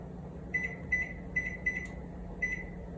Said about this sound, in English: I'm gonna go ahead and set my timer for 20 minutes.